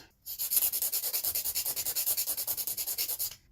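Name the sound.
filing a soft gel fingernail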